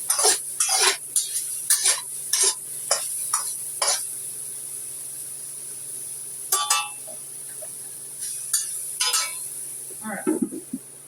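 Black pepper sautéed in a pan, heard as intermittent, close scraping and clinking strokes of a utensil separated by quiet pauses, with a brief voice near the end.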